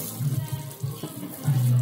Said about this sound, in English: First rinse it, see if anything come out.